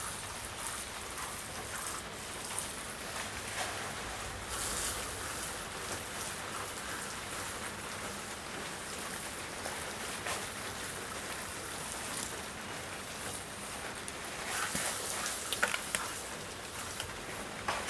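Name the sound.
garden hose spraying water to wet seed trays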